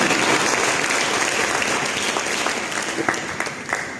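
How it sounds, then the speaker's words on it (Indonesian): Sustained applause from a large church congregation, steady and loud throughout with dense clapping that tapers only slightly toward the end. "Mari kita berikan tepuk tangan yang mulia bagi Yesus."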